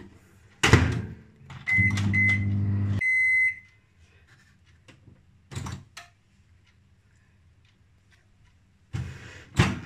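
A microwave oven cooking stuffed capsicums hums briefly before a couple of beeps sound, with clunks from the door opening and closing around it.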